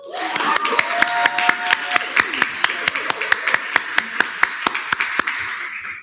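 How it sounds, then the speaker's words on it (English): A student government senate meeting gives applause for the Senate President, a room of hands clapping in a loose steady rhythm of sharp distinct claps for several seconds, fairly close and loud, with some voices mixed in. "we can't let the Senate President Pullman go without an applause"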